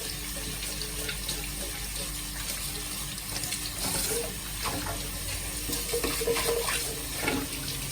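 Running kitchen tap water splashes steadily into a sink as a kitchen item is washed by hand, a continuous close rush with small shifts and clatters as the item moves under the stream.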